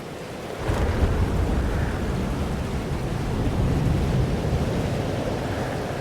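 Stormy weather in the game Life Is Strange: Double Exposure, a steady broadband roar of wind and rain with a low rumbling swell that starts abruptly and holds loud and continuous, no voices.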